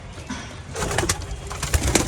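A red male pigeon coos close by in a small pigeon loft, a short burst of throaty, rolling coos growing louder toward the end.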